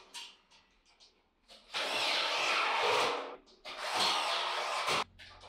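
A power drill drives screws into the metal frame of a flat PVC bathroom ceiling in two loud, sustained whirring bursts of a couple of seconds each, with brief pauses and quieter handling noise between them.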